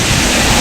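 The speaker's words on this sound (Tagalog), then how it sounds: "pa-sprayan lang ng malakas na pressure ng tubig, sigurado tanggal yan" High-pressure water spray blasting an air conditioner unit during cleaning in a home, a steady, loud, broadband rushing hiss that fills the whole short moment without a break.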